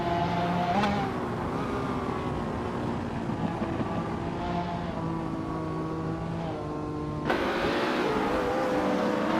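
Race car engines roar at Midfield Raceway Reverse in a racing video game, led by a 2010 Spanish GT Hispana supercar. A steady, loud engine drone shifts pitch through gear changes, with a sharp rise in revs near the end.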